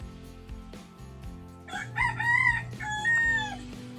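A rooster crows loudly nearby, a long strained call, over lower clucking and other farm sounds.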